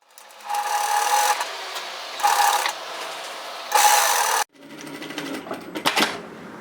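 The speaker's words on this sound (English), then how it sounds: "and then just sew that across." A sewing machine stitches across a fabric face mask seam in three steady running bursts with short pauses, followed by quieter rustling and handling of the fabric.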